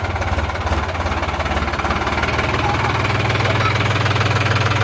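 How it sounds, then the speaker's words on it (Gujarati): A tractor engine chugs close by in a rough, low, rhythmic idle that stays loud and steady throughout, with no voices over it. "આ અનુરાગ ટ્રેક્ટર લઈને આવે."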